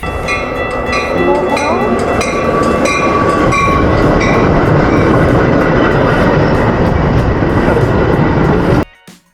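A loud, continuous rumble of a moving Chicago Metra commuter train heading downtown, with rhythmic clicking of wheels on track, fading abruptly near the end.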